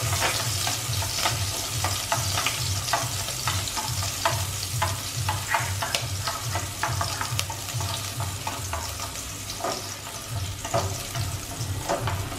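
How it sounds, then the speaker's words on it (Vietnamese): Thinly sliced onions fry in a spoonful of hot cooking oil in a pot, giving a steady close sizzle with scattered pops and occasional stirring clatter throughout, with no talking. "mình chiên cho thơm nha"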